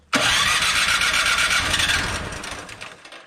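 A small Troy-Bilt snowblower engine sputters to life with the choke on after a brief silence and keeps running loud and rough, its roar easing slightly toward the end.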